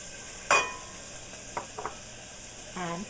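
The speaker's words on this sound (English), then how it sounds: "That's already hot, so it's going to start sauteing right away." Onions and celery saute in hot butter in a pan: a soft steady sizzle is broken by a sharp clatter and a few light knocks, and a voice briefly comes in at the end.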